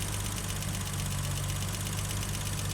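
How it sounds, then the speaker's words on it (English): The straight-six engine of a 1970s BMW 3.0 CSL idles steadily and close by. Its noisy tappets add a fast, even ticking over a low, constant hum, with no voices. "So it's those two areas that have noisy tappets."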